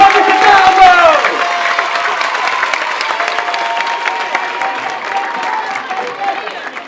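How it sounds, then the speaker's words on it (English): Applause and cheering from a crowd at a school sponsorship ceremony at New Jeshwang Lower Basic School, loud at first and then slowly fading, with a voice briefly over the start. "Round of applause"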